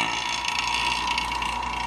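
Small vacuum pump running steadily after being switched on, a continuous mechanical hum with a whirring, slightly gurgling tone, close and even throughout with no talking.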